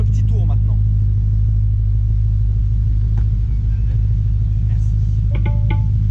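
An Audi RS4 with an aftermarket valved exhaust pulls away with a deep, loud, steady engine rumble heard from inside, with brief voices over it.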